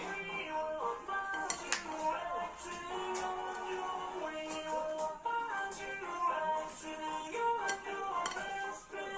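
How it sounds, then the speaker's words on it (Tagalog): Ingredients are mixed in a bowl with quick, repeated utensil clinks and ticks against the sides, close and fairly busy over a faint background. "Saka natin hahaluin."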